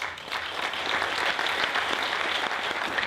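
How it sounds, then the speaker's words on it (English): Audience at a Farms & Fields agricultural event gives sustained applause, a full roomful of hands clapping steadily at moderate loudness with no voices on top. "So I say we give a round of applause for John Clark."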